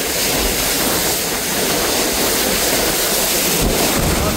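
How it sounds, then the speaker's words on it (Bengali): Rough river water surges around a passenger launch, the Doyel Pakhi-10 travelling from Ilisha in Bhola. A loud, constant roar of waves blends with heavy wind buffeting the microphone, with no speech. "ঢেউ হয়ে গিয়েছে।"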